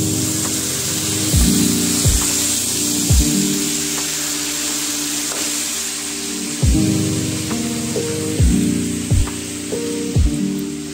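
A pork and bamboo shoot dish sizzles while cooking, a steady bright frying hiss with repeated low thumps and clatter of stirring, close and loud with no talk.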